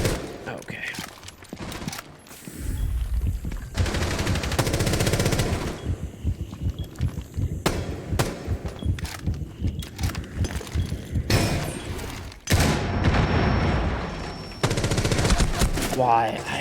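Gunfire in the video game Rainbow Six Siege: loud, dense automatic bursts and shots with breaking-glass crashes, continuing almost without a break, while players talk over the action.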